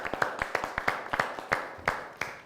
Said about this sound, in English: Let's give Allison and Duncan a hand clap